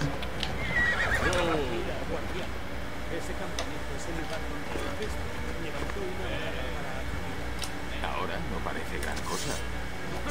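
A horse in Assassin's Creed Odyssey gives a loud neigh near the start, followed by steady clip-clop hoofbeats, with a game soundscape and speech running underneath.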